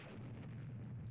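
A deep, sustained rumbling roar from an explosion destroying a tank in the video game Army Men 3D, heavy in the low end and steady throughout without a sharp onset.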